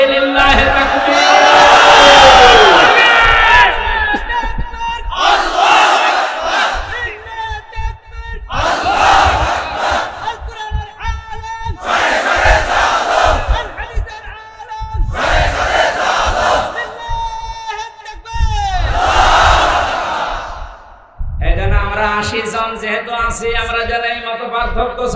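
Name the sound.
crowd chanting takbir (Allahu Akbar) at Islamic sermon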